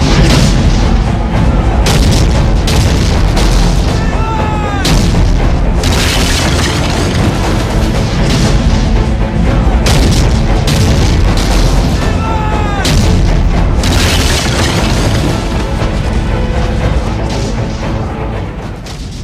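Cannon fire from forts in a Sikh battle, heard as repeated heavy booms and blasts in a dense, loud barrage that runs almost continuously throughout.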